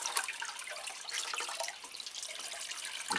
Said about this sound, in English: Just give them a nice good watering.